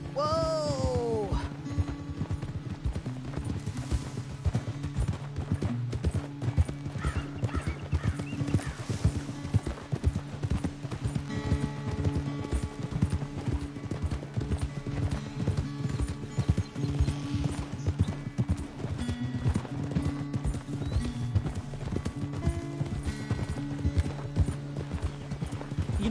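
Hooves pounding in a rapid steady gallop in Red Dead Redemption 2, with a horse whinny at the start and game music or ambience under it for the whole stretch.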